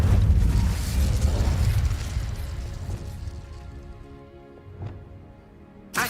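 An Incendio fire spell blast in Hogwarts Legacy opens with a loud rumbling burst that fades over several seconds, followed by a couple of smaller pops near the end.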